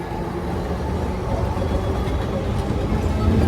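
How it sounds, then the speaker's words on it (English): A double-decker tram rolls past on a street in Alexandria, Egypt, a steady loud rumble of wheels and motor, near and continuous throughout, slightly swelling toward the end. "Here comes an example of one of the double-decker train cars."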